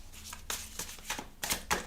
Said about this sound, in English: let's have another shuffle